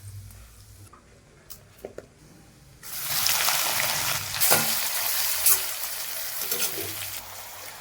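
Fennel, cumin and fenugreek start frying in hot oil on a low flame. After a few quiet clicks, a steady loud sizzle sets in, with occasional pops and stirring.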